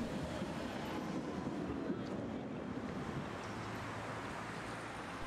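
A Braunschweig tram of the DÜWAG-built type runs past the palace, giving a steady, broad rushing rumble with wind noise that holds at a moderate, even level throughout, with no voices.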